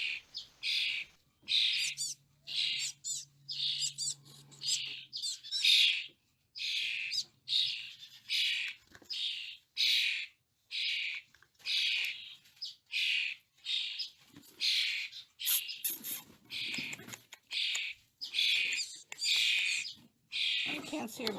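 Chickadees give a long run of sharp, bright repeated calls close by, chirping in quick bursts with brief gaps, joined by a faint low hum early on.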